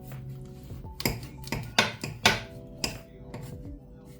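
A knife chopping cassava on a cutting board in a home kitchen, several sharp, separate knocks spaced irregularly about half a second apart, close and clear over a faint background hum.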